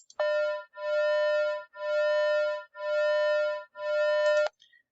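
Two pure electronic tones at 200 and 201 hertz combine into one steady hum that swells and fades about once per second in a slow, even pulsing beat, clear and alone.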